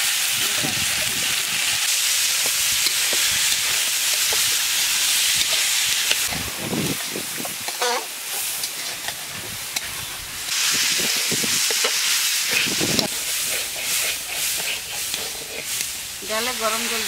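Mixed vegetables frying in a pan give a loud, steady sizzle with intermittent stirring scrapes and brief bursts of spatter, close up and without voices.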